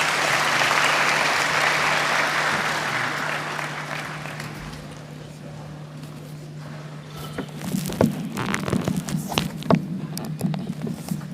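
Graduation ceremony audience at IIHT Gambia applauding, a full burst of clapping that fades away over several seconds, followed by scattered taps, footsteps and shuffling noises.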